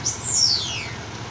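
A single short burst of hissing air from a rice combine harvester, sharp at first and then tapering off over about a second.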